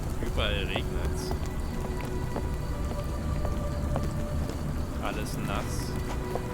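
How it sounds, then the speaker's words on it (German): Steady rain pouring over a London harbour street in a Sherlock Holmes adventure game, a dense even hiss of falling water with faint tonal cues and a voice talking over it. "Überall regnet's."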